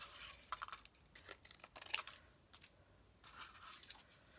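Scissors snipping through a sheet of hand-dyed paper, a handful of faint, close crisp cuts and rustles in uneven bursts with quiet pauses between.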